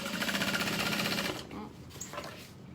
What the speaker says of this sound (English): I'm just gonna back stitch, and then, like, I'm literally using about a 5/8 of an inch seam allowance.